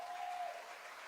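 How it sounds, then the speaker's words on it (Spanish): Brief wash of applause from a church congregation, dense and distant clapping blended into a soft continuous roar, with a faint tone running under it. "Yo estaría dándole un aplauso al Señor."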